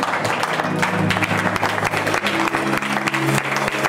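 A church congregation clapping during a sermon, dense rapid handclaps close by and continuous, with sustained tones of music or singing underneath.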